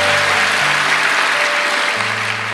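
A church congregation applauds together in a loud, steady wash of clapping that fills the whole moment, with sustained low keyboard or organ tones beneath it.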